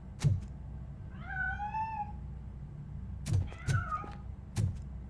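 A cat meows twice in the video game RoboCop: Rogue City, plaintive and fairly close, amid a low steady hum and several dull thumps.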